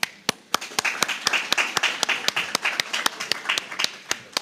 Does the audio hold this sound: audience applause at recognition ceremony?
yes